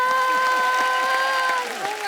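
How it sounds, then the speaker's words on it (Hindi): An audience applauds for Mukti Mohan on a TV entertainment stage, a steady broadband wash of clapping under sustained musical tones and a voice, easing slightly near the end. "जोरदार तालियां मुक्ति के लिए।"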